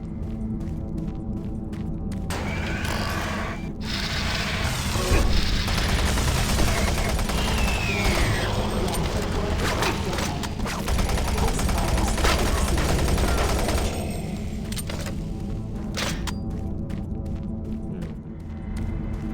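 Chain gun fire in Doom 3 appears as a dense, continuous roar of rapid shots with heavy low rumble, sustained for most of the stretch and fading slightly toward the end.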